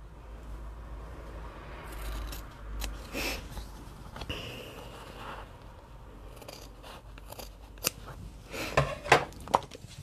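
Scissors cut out fabric tote bag pattern pieces, giving faint, close, scattered snips and rustles at irregular intervals, with a few sharper cuts near the end and no talking.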